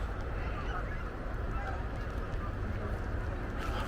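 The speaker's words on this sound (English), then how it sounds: "We still have geese up there." Geese honking overhead in a wild bird area near the Malahat, a steady faint chorus of calls spread through the clip over constant outdoor background noise.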